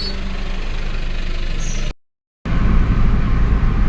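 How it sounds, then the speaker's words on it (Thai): The engine of an Isuzu TFR SLX pickup from 2540 (1997) runs steadily with a rough, knocking idle, loud and close. The sound cuts out briefly and then resumes slightly heavier. "เครื่องเสียงดังแล้วนะครับ"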